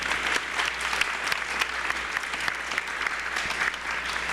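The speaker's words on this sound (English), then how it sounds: "Let's give them a round of applause." Audience applause at a Juneteenth community political panel event in Jackson, a steady dense wash of many hands clapping that holds evenly for several seconds without a break.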